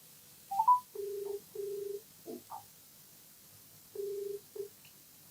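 A phone call being placed: a few short electronic dialing tones, followed by steady repeated ringback tones in two bursts with pauses between, clear and isolated against a quiet background.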